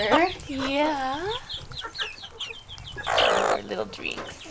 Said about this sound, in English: There's roosters out here that will attack.